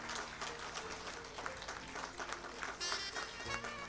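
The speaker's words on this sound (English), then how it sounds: "Big round of applause," A seated audience at a silver jubilee awards ceremony gives an award winner steady, dense applause that stays fairly constant from start to finish, heard from a moderate distance with some hall reverberation.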